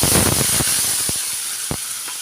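Tomato paste hits hot oil with cumin and asafoetida in a pan for Assamese arhar dal, giving a loud, steady sizzle with a few sharp clacks near the start.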